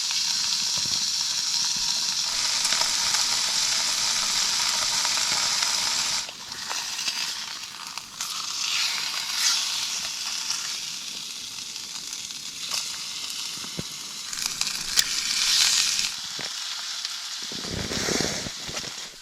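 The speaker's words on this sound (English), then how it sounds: "I just love a sizzle." Steady loud sizzling of garlic and chilli steak frying in a pan inside a small tent while camping, a continuous hissing crackle that dips briefly midway and carries on with small pops.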